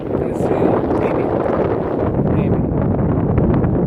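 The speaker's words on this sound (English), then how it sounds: "Sorry, windy." Wind gusting steadily across an open hiking trail on the Pacific Crest Trail, a loud, constant broadband rush buffeting the microphone with no pauses for the full few seconds.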